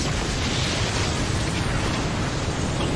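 A dense, sustained roar of broadband noise with a heavy low rumble, like the drawn-out blast of an explosion in an anime scene, steady and loud throughout.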